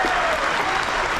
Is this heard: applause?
yes